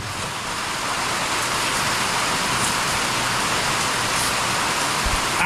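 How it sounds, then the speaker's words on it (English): Steady rain falls in an even hiss, with a faint hum of passing traffic underneath and no voices. "It started raining."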